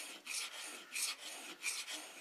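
A blade is rubbed on a small diamond plate wetted with WD-40, giving four close rasping strokes in an even back-and-forth rhythm.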